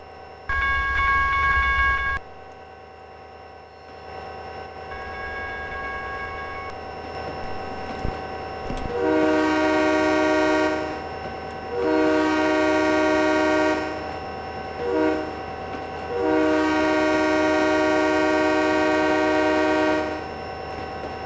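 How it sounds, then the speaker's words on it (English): A 60-car grain freight train in the Trainz 2010 simulator on the Saginaw Subdivision sounds its horn in a series of long blasts and shorter toots over a steady engine rumble, loud and close. "But here we are pulling this, I think there's 60 cars on this train"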